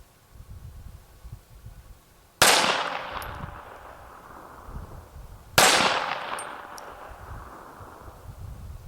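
.22 rifle fired at 10 yards into a homemade bullet trap, two sharp cracks a few seconds apart, each with a short metallic ring and fading echo, close and loud over faint background rumble.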